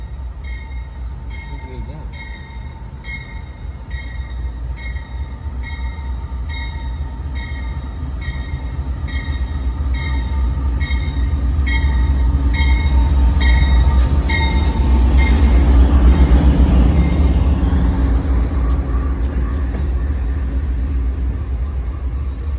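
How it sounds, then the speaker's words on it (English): A train rolls into New Haven station in Connecticut with a loud, low rumble that swells toward the middle and then eases, while a rhythmic ringing bell or chime repeats steadily above it and voices sound faintly. "626 train is now arriving on track number 4."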